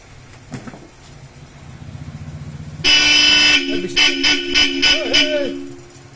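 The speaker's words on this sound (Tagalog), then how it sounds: "Napakalakas ng busina." A 2024 Ford Ranger Wildtrak fitted with Bosch Europa horns blares in one long, loud blast, then sounds several short, sharp toots in a row, very close, after a quieter stretch with a voice.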